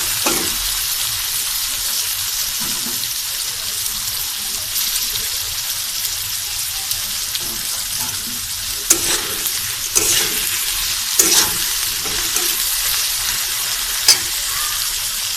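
Potato pieces fry in hot oil seasoned with salt and turmeric for a rui fish curry, making a loud, continuous sizzle close up, with intermittent clinks and scrapes of stirring.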